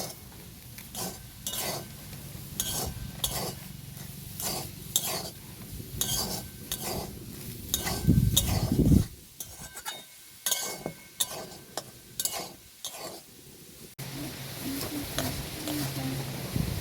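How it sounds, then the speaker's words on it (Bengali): Powdered milk sandesh mixture stirred in a pan over low heat: rhythmic scraping strokes of a spatula against the metal with light sizzling and occasional clinks, close and moderately loud, with no talk. "এভাবে হালকা আঁচে নাড়তে থাকবো।"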